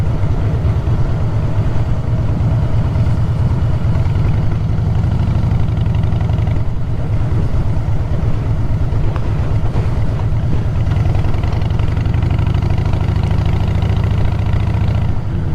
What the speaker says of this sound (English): Stuck behind a bloody tractor.